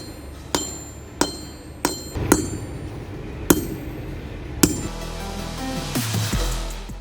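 A hammer strikes a screwdriver in a small workshop, six sharp metallic cracks spaced roughly a second apart over steady background hum, followed by a rougher scraping, rattling stretch.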